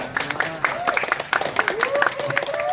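A small group claps at a firefighter training and simulation session in Central Jakarta, with brisk, uneven applause running throughout and voices talking over it.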